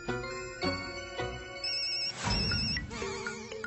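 A telephone rings with a melodic electronic ringtone, sounding as a series of clear, repeated tonal bursts close by that keep going without pause, with no talking.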